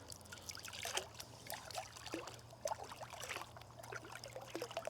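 Liquid plant nutrient is poured into a watering mix and flushed out with a few dunks, giving soft irregular trickles, splashes and gurgles close by, quiet over a low steady hum, with no talking.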